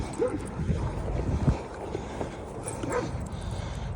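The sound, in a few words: dog barking and whimpering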